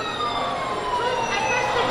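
Toy siren wailing from an interactive button panel in a kids' play area at an ice cream shop, a continuous rising and falling electronic tone, fairly loud amid background noise.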